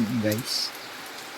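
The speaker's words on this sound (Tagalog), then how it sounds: "Ayan, bumakas na naman ulit ang ulan. Ayan, lumakas na naman." Heavy rain falling near the sea on a rainy afternoon, a steady broadband hiss that takes over after a brief burst of a voice at the start.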